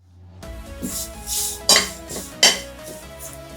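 Curry leaves and sesame seeds fry in a pan, with a low steady hiss under metallic clinks and two sharp scraping knocks of a utensil against the pan.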